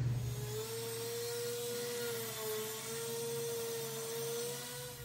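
Dremel rotary tool sanding rivet edges on a handmade copper ladle, a steady high-pitched whine with a slight wavering pitch, close and continuous throughout.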